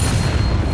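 A single short, loud, low boom from a Bombarda blast spell in Hogwarts Legacy, heavy and close, lasting under a second with no voices.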